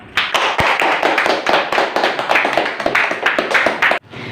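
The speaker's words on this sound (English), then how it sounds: "Okay, clap hand." A class of students clapping their hands in an English training classroom, a dense burst of loud applause lasting about four seconds and then cutting off abruptly.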